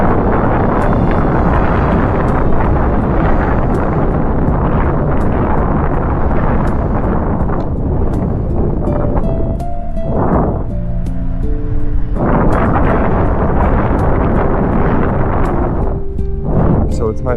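Steady roaring wind buffets the microphone while an Inmotion V1 electric unicycle rides outdoors in gusty conditions, a loud continuous rush that swells and dips in waves throughout.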